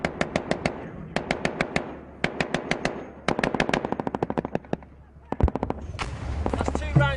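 Bursts of automatic gunfire ring out during a Taliban attack in Afghanistan, loud rapid volleys repeating in several strings with pauses between, close and sharp, with voices faintly underneath.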